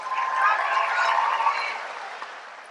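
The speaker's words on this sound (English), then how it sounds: "Please give them a big round of applause." Applause from a commencement ceremony crowd honoring standing faculty, a broad sustained clatter of many hands that swells early and slowly tapers off toward the end.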